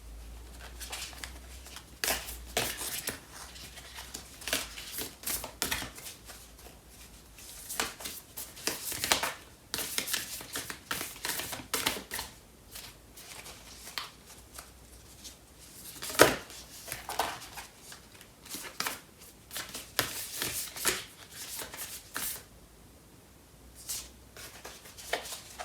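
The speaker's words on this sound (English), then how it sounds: "I'm going to pull out a card for this overall connection" Tarot cards are shuffled and pulled from the deck in quiet, irregular bursts of papery riffling and soft taps, close by, with long soft gaps between them.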